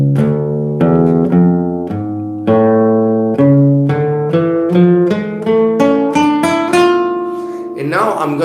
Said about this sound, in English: Now I'm gonna play one leading tone to each of those notes.